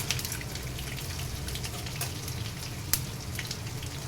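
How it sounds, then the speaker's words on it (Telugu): Garlic, mustard seeds, cumin and dal crackle in hot oil as a Telugu tempering, a dense even sizzle with faint pops, heard close and without talk. "నూనె కాగుంటుంది కాబట్టి తొందరగా వేగిపోతాయండి"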